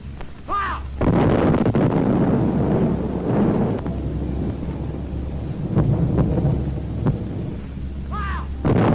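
A World War II anti-aircraft gun fires repeatedly, heavy booming reports that roll on and echo, loud and close in wind-buffeted open air, with a few faint distant cries.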